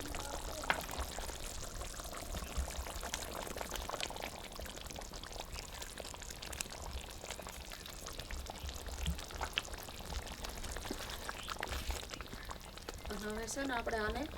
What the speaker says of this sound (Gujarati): હવે આપણે ડુંગળી નાખી દઈએ તળેલી